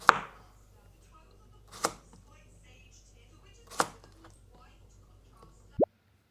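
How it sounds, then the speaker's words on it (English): A knife chops a cucumber in a home kitchen with four sharp, separate cuts spaced a couple of seconds apart against a quiet background. "I'm gonna cut up this cucumber"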